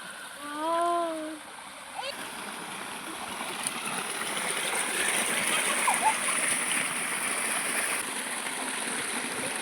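Water running steadily in a field irrigation channel, a continuous rushing hiss that swells after the first two seconds, with a brief bird call at the start.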